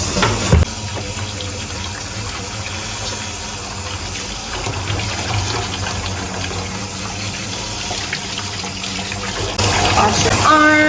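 Steady running tap water pours into a sink for hand washing, a broad even gush that holds throughout and swells a little louder near the end.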